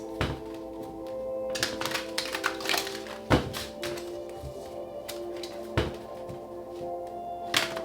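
Tarot cards shuffled by hand during a reading, a series of soft riffles and sharp taps against a table, close and fairly quiet, with irregular louder thumps between the flutters.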